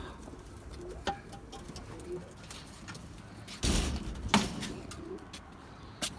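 Young pigeons in a coop, with soft coos and scattered bird calls over a low background, plus a few brief flutter-like bursts partway through.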